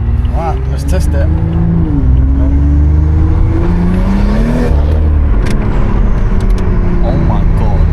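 An old BMW's engine revs hard and pulls through the gears in a loud, rising and falling drone under some voices.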